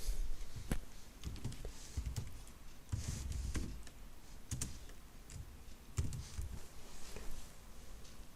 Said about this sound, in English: let me start typing commands.